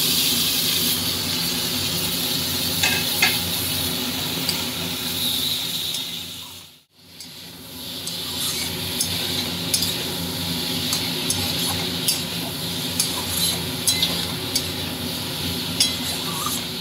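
A spice paste with tomato sautés in a pan, a steady hissing sizzle with light clinks and stirring taps, cutting out briefly midway before resuming just as busily, with nobody speaking.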